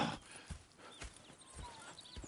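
Horse hooves clip-clop in a steady walking rhythm in the video game Red Dead Redemption 2, fairly quiet, with soft ambient background.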